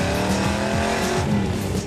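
Sammy Hagar's Red Rocker Mustang drives hard with a loud, steady engine drone and a continuous squeal of tires close by, with no talk.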